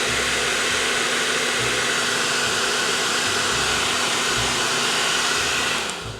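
A hair dryer blows on a Flex Tape patch with a steady, loud whooshing roar that runs without a break and cuts off just at the end.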